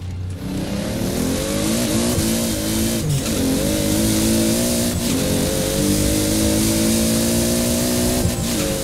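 A max-tuned Toyota Supra MK4 in the racing game Forza Horizon 4 roars at full throttle, the engine note climbing through rising revs with brief dips at gear shifts, loud and continuous.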